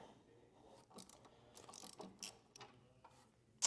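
A ratchet wrench clicks in short, faint bursts as it loosens a T45 steering pinch bolt on an M8 Low Rider motorcycle, with a sharper metallic tick at the end.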